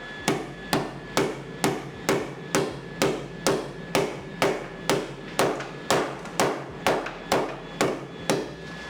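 A hammer striking frame rail parts during installation: a steady series of about sixteen sharp metallic blows in an even rhythm, each close and loud, with no talking.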